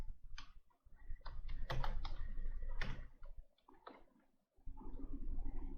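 Quick bursts of keystrokes on a computer keyboard as a zip code is typed into a web form text box, close and fairly quiet, with brief pauses between clusters.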